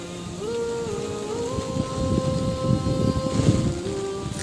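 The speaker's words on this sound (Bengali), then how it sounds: "প্রচণ্ড পরিমাণে ঝড়ো হাওয়া হচ্ছে" Strong stormy wind from Cyclone Remal sweeps through a village, making a rough, rumbling roar with buffeting gusts that swell and fall, over a faint steady tonal hum.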